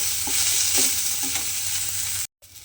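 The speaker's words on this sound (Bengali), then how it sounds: "দিয়ে এইভাবে গ্যাসটা লোতে দিয়ে পেঁয়াজটা আমাকে খুব ভালোভাবে প্রথমে ভেজে নিতে হবে।" Onions frying in a little oil over low gas flame give a continuous close sizzle with light stirring taps, cutting off abruptly near the end.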